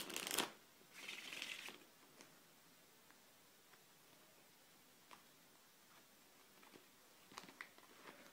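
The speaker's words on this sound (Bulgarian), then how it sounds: "И ще разбъркам картите." Playing cards being shuffled during a card magic trick, a brief riffling burst near the start followed by a longer soft shuffle, then faint scattered ticks in a quiet room.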